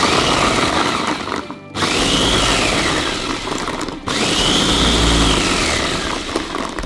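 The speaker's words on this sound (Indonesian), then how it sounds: "Cabainya sudah kita masukkan dan diberi air sedikit ya untuk menghaluskan. Kita blender" A kitchen blender grinds chili peppers with a little water, whirring loud and steady in two long runs with a brief stop between them, its pitch rising as it spins up again.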